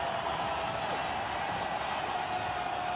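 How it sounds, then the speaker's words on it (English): Crowd noise at a Gold Cup football match between Qatar and El Salvador surges as a corner is taken, a broad, steady roar of the stadium lasting the whole moment, with a commentator's voice faint beneath it. "The roar of the crowd."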